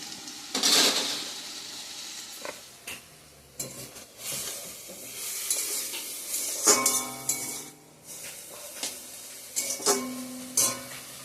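Saag greens cooking in a covered pan, with a soft sizzle beneath intermittent metallic clinks and scrapes of a utensil against the pan, close by and with no talking.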